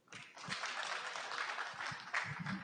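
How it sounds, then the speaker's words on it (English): An audience at a corporate career day event gives a dense round of applause, a steady wash of many hands clapping at moderate distance for the whole stretch. "Another round of applause for Abdul."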